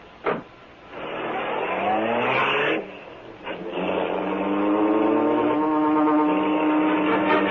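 A car pulls away in an old-time radio crime drama, its engine rising and revving steadily for several seconds with a brief pause before accelerating again, loud and close with no voices.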